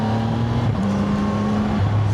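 A CF Moto 675 SR-R motorcycle engine from 2026 runs with a steady droning hum that shifts pitch slightly as it holds revs, loud and close with no talk.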